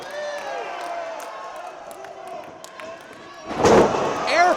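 Wrestling crowd reacting to an airplane spin, a commentator talking over low arena murmur before a loud impact and a swell of cheering near the end.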